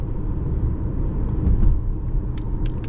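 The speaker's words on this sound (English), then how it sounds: "Absolutely love the sound of the engine here." A 2024 Volkswagen Tiguan S (FWD) heard from inside while driving: a steady low engine and road rumble that swells slightly midway, with a few faint higher clicks near the end.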